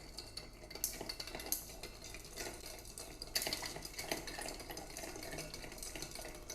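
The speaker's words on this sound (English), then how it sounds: "Now let's give that a good stir." Ice rattles softly against glass as a martini is stirred, a quiet continuous clinking and swirling with a few brighter knocks, close and low in level, no voices.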